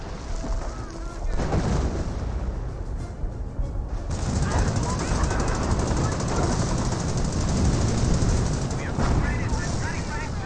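Artillery barrage rains down in a Company of Heroes match, dense rumbling booms and crackling impacts layered into a continuous roar, with a caster talking over much of it.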